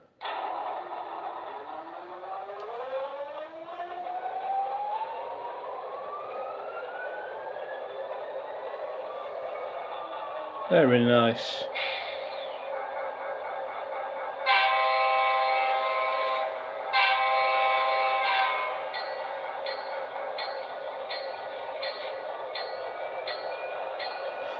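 An SD40 diesel locomotive on a model railway layout at a modern-day running session, with tonal whistle-like sweeps, a sharp burst near the middle and steady horn-like tones later, lasting throughout at moderate level; a brief voice comments.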